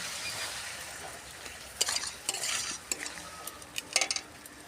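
Cornflour slurry stirred into a hot wok: a steady sizzle with scraping spatula strokes and a few metallic clinks, moderately close, no talk.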